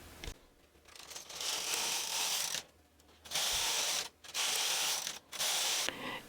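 Brother 260 bulky knitting machine knitting plain rows, its carriage rasping across the bed in several long, close sliding passes separated by short pauses.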